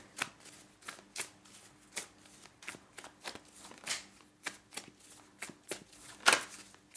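Tarot cards shuffled by hand in repeated quick riffling bursts, each a crisp papery flutter with short pauses between, close and fairly quiet, with no talking.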